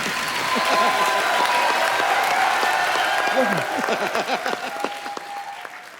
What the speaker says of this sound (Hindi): मेरे भाई के लिए जोरदार तालियां।